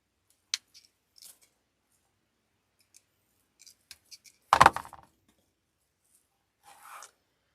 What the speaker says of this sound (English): Cutting the excess off.